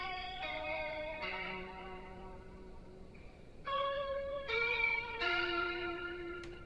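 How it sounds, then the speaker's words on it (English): Guitar running through a reverb pedal on its caramel setting plays a slow sequence of held, shimmering notes with a lush, watery wash and long tails, moderately loud and alone with no voices. "there's a guitar that's going through this reverb"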